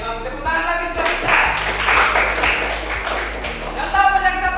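A classroom full of students breaks into a burst of applause that lasts a few seconds, steady and fairly loud, with a teacher's voice heard before and after it.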